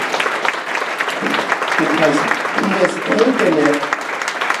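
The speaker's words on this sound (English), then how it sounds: "and we deserve a round of applause" Applause at an annual township town meeting, continuous crowd clapping at moderate loudness with a voice speaking over it.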